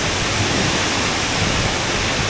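A waterfall at the Batad Rice Terraces in Banaue, Philippines, pours in a loud, constant, dense roar of rushing water filling the scene close by, with no voices.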